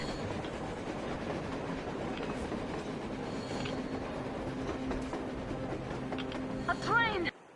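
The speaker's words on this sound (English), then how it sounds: "A damn train on the surface!" A train passes through a blizzard in the video game Metro Exodus, a steady rumble of rolling wheels and clattering cars with wind noise, rising to a brief metallic squeal near the end, with people talking over it.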